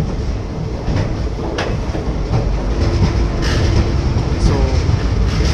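A passenger train rolling along the platform at Kazipet Junction, loud steady rumble and clatter of wheels with faint squeals, close and continuous.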